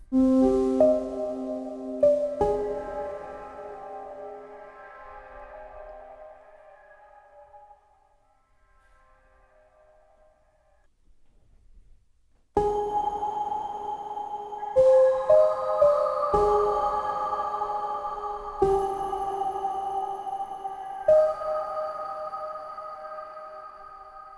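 An Omnisphere 2 synthesizer patch chimes and sweeps with sparkling, sonar-like pings, a first burst fading into near silence before a brighter sequence of struck notes returns.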